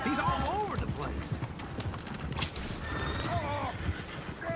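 Horses in the video game Red Dead Redemption 2 neigh and whinny repeatedly over steady clip-clopping hooves, close and fairly loud, with a voice talking over them.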